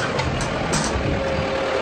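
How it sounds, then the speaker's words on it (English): A TYM 5835R compact tractor, a big-frame shuttle-shift model, runs steadily with a low, even engine drone close by, with no talking. "TYM 5835R. I love this little tractor a lot."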